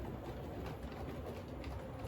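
A K1 locomotive on a model railway layout rolls in with a steady, continuous low rumble and rattle that holds at a fairly even loudness throughout.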